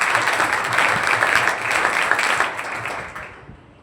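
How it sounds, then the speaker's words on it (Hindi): Hearty audience clapping at a school's 12th board merit felicitation ceremony, a full, even burst of hand claps that gradually thins and fades away within a few seconds. "एक बार सब मिलकर इन सब भैया बहनों के उत्साहवर्धन के लिए एक बार जोरदार तालियां बजाएंगे।"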